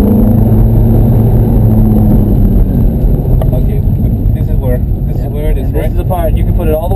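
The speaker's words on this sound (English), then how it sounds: "You get a chance to listen to the motor go." A Ferrari engine on a race track, a loud steady roar with rising harmonic sweeps as it accelerates through the gears, running close throughout with a voice talking over it.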